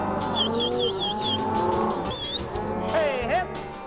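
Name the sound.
cattle mooing at ranch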